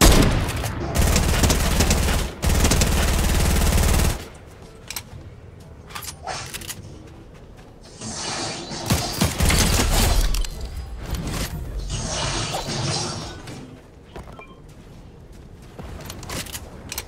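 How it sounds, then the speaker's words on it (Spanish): Repeated bursts of gunfire in Fortnite fired toward the player, with dense rapid volleys in the opening seconds and then scattered shots and impacts, loud and close. "Alguien me dispara."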